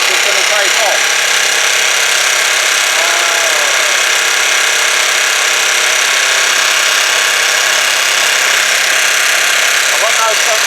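A Lifan LF125T Aero 125cc scooter engine runs steadily close by, a continuous buzzy drone with a faint ticking rattle, held on the brake without a center stand.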